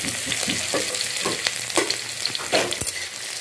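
Chopped ginger, garlic, green chili and mustard seeds frying in hot oil, a steady loud sizzle broken by stirring scrapes and small pops, with no voices.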